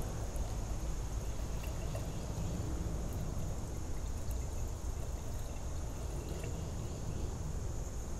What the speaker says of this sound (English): I'm just gonna pour this in slowly so it doesn't run.